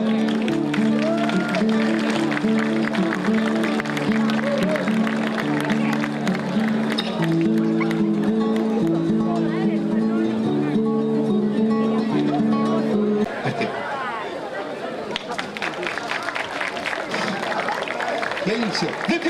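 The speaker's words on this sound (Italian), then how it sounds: "E con questo la salutiamo con un altro forte applauso" An evening audience at a park in Sicily gives steady applause for a performer, sustained clapping under music and crowd chatter, thinning somewhat in the second half.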